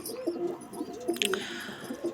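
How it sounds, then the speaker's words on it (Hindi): English carrier pigeons coo softly and repeatedly nearby, low throaty calls overlapping with a few faint chirps in the background. "तो ये था भाई इंग्लिश कैरियर कबूतर।"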